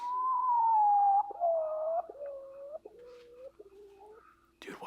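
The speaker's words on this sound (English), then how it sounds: "This bird gives us forest noises." A bird from a Minecraft forest at night gives a series of descending, cooing whistled notes that step lower in pitch, clear and alone, ending in a brief noisy burst.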